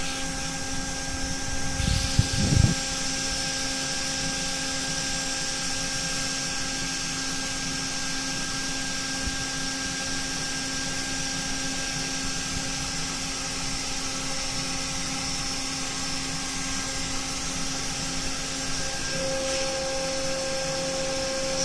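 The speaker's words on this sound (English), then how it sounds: "Reaming those holes out just like the other side." A machine reams holes in a part at 16,000 RPM, producing a steady high-pitched whine with sustained tonal hum, briefly louder near the start and constant for the rest.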